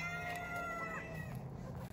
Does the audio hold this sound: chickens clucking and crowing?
yes